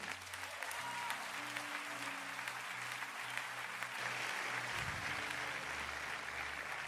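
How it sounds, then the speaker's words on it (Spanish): Sustained applause from a church congregation fills the room, steady clapping over held organ-like tones, with a brief low thump partway through. "Dale otro aplauso a Dios."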